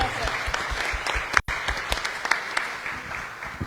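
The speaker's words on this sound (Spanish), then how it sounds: "Le damos un fuerte aplauso, por favor, a la doctora Xóchitl Trujillo." Applause for a speaker at a research panel on global innovation challenges, a full crowd clapping continuously with a brief dropout partway, a voice faintly present beneath the claps.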